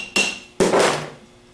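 Two sharp metallic taps from big screwdrivers driven under a 3G alternator slip ring, loud and close, each strike ringing briefly before fading.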